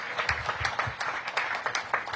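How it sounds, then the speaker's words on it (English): A small crowd gives a round of applause for homebuyers at a public event, with moderately loud, irregular clapping running continuously and no talk over it. "Let's give them another round of applause."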